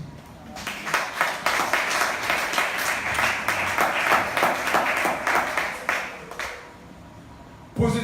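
A church congregation applauding, a dense wash of many hands clapping steadily for several seconds, fading out near the end before a brief loud burst.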